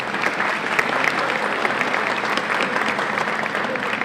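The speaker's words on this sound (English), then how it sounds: "Let's help me to give them a round of applause" A round of applause for overseas guests at an international open championship, a thick continuous clatter of many hands from a sizable crowd, loud and steady with faint voices mixed in.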